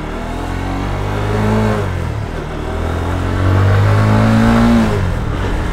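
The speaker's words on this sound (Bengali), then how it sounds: "ও বাবা, কি সাউন্ড! অস্থির একটা সাউন্ড কিন্তু বাইকটার।" GPX Demon GR165RR motorcycle engine revving up loudly twice, each rise in pitch swelling and falling back, heard close and alone.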